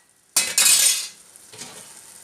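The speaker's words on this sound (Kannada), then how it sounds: "ಮಿಕ್ಸ್ ಮಾಡಿದ ನಂತರ ಮುಚ್ಚಳ ಮುಚ್ಚುವ." A metal lid set down on a pan of prawn sukka gives a sharp clink followed by a second clatter, then a quieter settling knock over a faint sizzle, close and with no talking.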